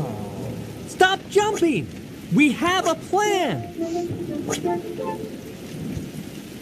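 A steady hiss of rain in a thunderstorm runs beneath excited, shouting voices in an animated scene.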